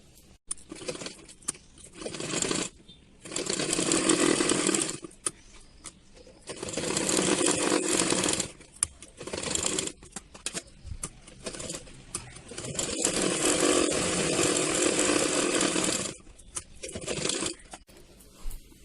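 Sewing machine stitching a blouse sleeve for a princess-cut blouse with puff sleeves: several runs of close, steady mechanical whirring of differing lengths, separated by quiet pauses and small handling clicks.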